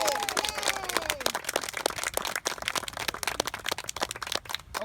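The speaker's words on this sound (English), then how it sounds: "let's give a round of applause to Yvonne and Mickey" An audience at an animal shelter groundbreaking ceremony applauds two animal control employees, a dense burst of many hands clapping close by, with a few voices mixed in.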